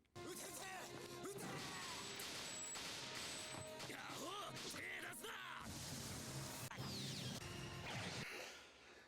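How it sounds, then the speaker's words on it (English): Rapid anime sword slices from Fullmetal Alchemist: Brotherhood, a dense run of sharp whooshes, smashes and impacts mixed with shouting and battle noise, loud and continuous throughout. "Those sword slices, super quick, blood everywhere."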